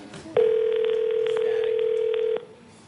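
A single telephone ring tone on a live morning talk show, steady and fairly loud for about two seconds before cutting off, heard alone with no talk over it.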